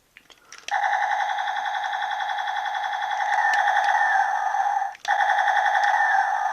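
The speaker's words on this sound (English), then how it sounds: "you get a rapid fire blasting sound by holding down this trigger button" A Lightning Riff Blaster toy gives a continuous electronic rapid-fire blasting tone after a click, buzzing loudly and evenly, then breaks off briefly and starts again.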